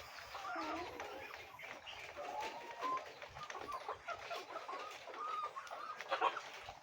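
Hens clucking in a laying house on an egg farm, a busy chorus of close and distant clucks and soft cackles over steady ambient hum, with no talk.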